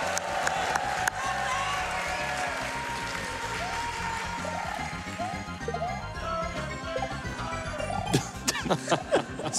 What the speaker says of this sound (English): Let's hear it, crowd. Come on, let's cheer them on.